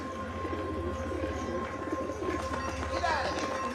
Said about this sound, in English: there's fucking birds on the table